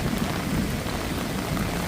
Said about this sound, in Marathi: हेवी पावस म्हापसा.